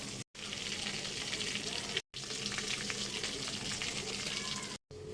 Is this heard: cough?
no